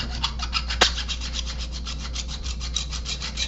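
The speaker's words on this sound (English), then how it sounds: "filing it down, and we can remove all the burrs." A hand file strokes across a thin metal servo bracket in quick, even, close rasping passes, with one sharp click early on and no speech.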